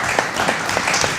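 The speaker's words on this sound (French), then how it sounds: "le public peut les applaudir" A studio audience applauding guests as they come onto a radio set, a brief, close burst of dense clapping that fills the whole moment.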